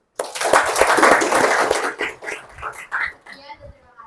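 Classroom applause for a student group breaks out suddenly, loud and dense for about two seconds, then thins into scattered claps and fades, with a few voices mixed in.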